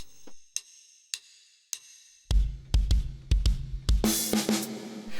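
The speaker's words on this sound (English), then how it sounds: "drums kick in. We've got this bass drum kind of pickup." Drum kit playing the intro of a song: a few light ticks, then a bass drum pickup with punchy kicks and hits building in a quick rhythm, ending on a crash, close and clear with no talking.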